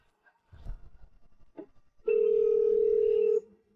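A steady telephone dial tone sounds clearly for about a second and a half after a phone is picked up, preceded by faint handling noises and rustling in a quiet room.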